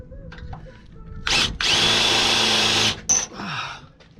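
Power drill boring holes in 50-year-old steel on a 1970 Chevelle, a loud whining burst of about a second and a half after brief starts, then a short stop and a lower-pitched follow-up run.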